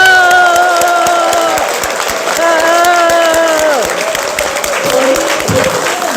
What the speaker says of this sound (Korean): 뜨거운 박수 한번 부탁드립니다